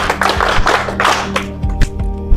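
Quick burst of classroom clapping for a student, several hands patting irregularly at close range for about two seconds, loud and fairly scattered rather than rhythmic.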